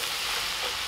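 Onions fry in oil inside a cast-iron Dutch oven, giving a dense, even crackling sizzle that stays at a constant level through a brief moment, close and with no voices.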